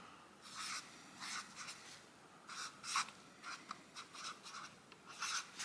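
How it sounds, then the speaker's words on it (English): Mildliner highlighter pen writing in a Kokuyo Campus weekly planner, a series of soft felt-tip strokes scratching across paper in short bursts, close and quiet with no talking. "I'm just gonna write, actually I'm gonna do it in this mild liner"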